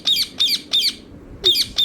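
Repeated loud parrot squawks from a talking pet parrot, about four harsh bursts in quick succession with a brief gap, close by and alone without speech.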